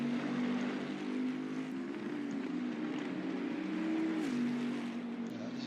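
A race car engine in Assetto Corsa on PlayStation, running at Bathurst during a qualifying session. It makes a steady, droning tone that dips and rises slightly in pitch with gear and throttle changes, and it stays continuous throughout.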